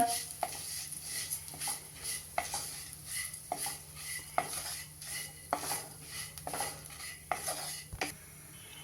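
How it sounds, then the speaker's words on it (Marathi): Poha (flattened rice) roasting in ghee in a pan, with repeated scraping and stirring clinks of a spoon against metal over a faint sizzle, heard up close in a steady rhythm. "आता त्याच तुपामध्ये आपण हे पोहे घालणार आहोत आणि पोहेही भाजून घेणार आहोत"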